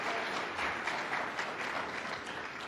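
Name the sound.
audience applause for panelists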